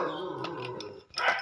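A dog gives a few quick barks and yips nearby, short bursts separated by a brief pause, with a faint voice in the background.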